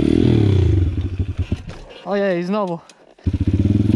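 Loncin 125 motorcycle engine during wheelie practice, a low revving drone at the start and again at the end, with a rising and falling whine in the middle and a brief near-silent gap where it dies; someone talks briefly over it.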